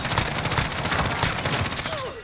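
Rapid bursts of gunfire from the video game Call of Duty Warzone crackle in a dense, continuous fusillade, loud and close, with a faint voice briefly under the shots.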